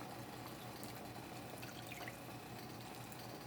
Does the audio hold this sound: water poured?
yes